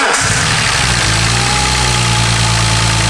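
A BMW M3 with a misfire and a noisy top end fires up and settles into a loud, steady idle, its engine rumbling close by with a mechanical clatter and no talk over it.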